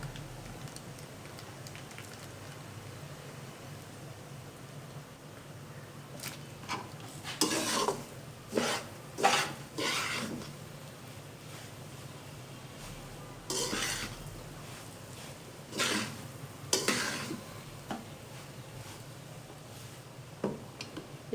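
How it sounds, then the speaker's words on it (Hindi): Spoon stirring semolina as it roasts over low heat in a pan, with scraping strokes coming in irregular clusters over a steady low background, no talking. "5 से 10 मिनट के लिए हम इस तरह से हल्की आंच पे सूजी को भून लेंगे।"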